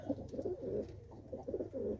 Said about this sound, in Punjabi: ਦੇਖੋ ਕਬੂਤਰ ਤੇ ਦੱਸਣਾ ਬਾਈ ਜੀ ਕਿੱਦਾਂ ਦੇ ਲੱਗਦੇ ਆ